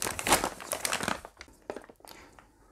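Plastic Campustüte goodie bag being opened, close crinkling and rustling bursts that are loudest at first and then thin into sparse scattered crackles.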